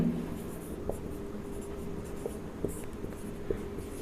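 Pen scratching across paper as math equations are written by hand, with continuous close, soft scraping broken by small taps at the strokes.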